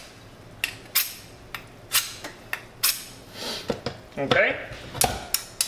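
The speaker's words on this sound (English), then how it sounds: "I'm going to sharpen up my knife." A kitchen knife is honed before cooking salmon and asparagus: a series of about ten sharp, scraping metallic strokes in an uneven rhythm, close and fairly loud, with a brief spoken word.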